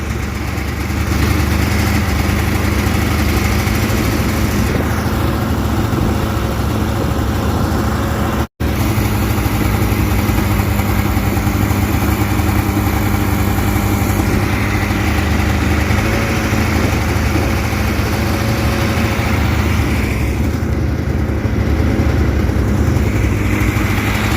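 A Polaris off-road vehicle engine runs steadily and loudly for the whole stretch, a continuous near mechanical drone with one abrupt momentary dropout partway through, and no talk over it.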